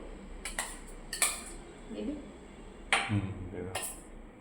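Plates and dishes are handled while food is served, with several crisp clinks and scrapes of crockery and cutlery spaced irregularly, close by, while a voice talks quietly underneath.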